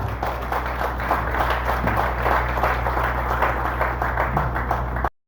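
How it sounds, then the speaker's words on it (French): A church congregation applauds its pastor, steady continuous clapping with a low hum underneath, ending abruptly. "Je vous demande d'applaudir votre pasteur, s'il vous plaît."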